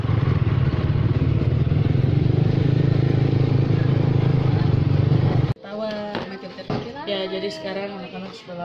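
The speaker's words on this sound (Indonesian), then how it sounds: "Cuma dengar bunyi motornya." A loud, steady motorcycle engine drones close by for several seconds, then cuts off abruptly, and people talk afterward.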